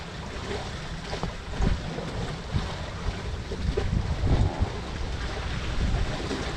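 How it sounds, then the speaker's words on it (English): Strong wind of about 20 knots roars continuously across the microphone aboard a sailboat with reefed sails, with gusts and water noise rising and falling throughout. "Oh, we've got loads of wind. 20 knots."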